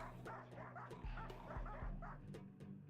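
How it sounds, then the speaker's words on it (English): Puppies in the colony game RimWorld give several short, high bow-wow yips and whimpers at a steady pace, fairly close, over a low droning music bed. "They're doing Angie puppy borks."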